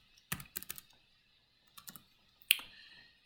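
A breed name being typed into a website search box: a quick burst of keyboard clicks, a pause, a few more taps, then one sharp louder click, all close and with no talking.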